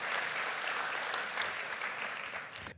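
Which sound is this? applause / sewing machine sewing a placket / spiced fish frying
applause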